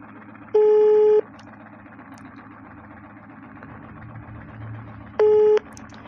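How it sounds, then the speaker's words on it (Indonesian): Two identical electronic ringback tones sound while a phone call is being placed, one near the start and another about five seconds later, each lasting roughly half a second, loud against a steady low engine-like hum. "langsung aja kita akan coba telepon"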